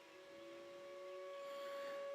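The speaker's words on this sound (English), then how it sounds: "Tornado sirens going off in the city of Fairfield" Steady, distant wailing tornado sirens in a city hold at an even pitch during severe weather, slowly growing louder, with a faint airy hiss beneath and no voices.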